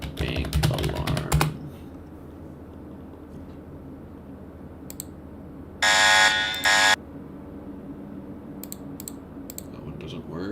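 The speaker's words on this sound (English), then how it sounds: "we're going to look for a bank alarm" A bank alarm sound effect previewed in Roblox Studio rings once as a loud, harsh buzzing burst lasting about a second, after rapid keyboard typing and mouse clicks at a desk.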